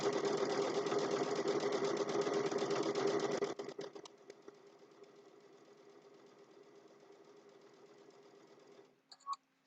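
A sewing machine stitches a fabric napkin near a mitered corner, running loud and steady for a few seconds, then dropping to a quieter hum before stopping.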